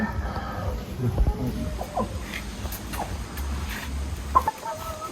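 A rooster and chickens in a farmyard in Namangan, with several close, irregular clucks and short calls over a steady low rumble of background noise.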